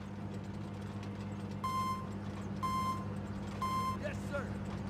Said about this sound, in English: Fire truck's like, I need to get on the road here, please